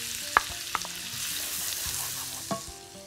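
Onions sizzle in a frying pan, a soft steady hiss punctuated by a few sharp clinks and scrapes of a utensil stirring, close and without talk.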